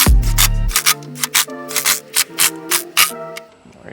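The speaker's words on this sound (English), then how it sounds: "I'm just taking my little impact, snugging them down." A small impact driver snugs down valve cover bolts on a Honda CR-V: a series of short, close rattling bursts in an uneven rhythm, about eight quick hits after an opening low thump, with no talking.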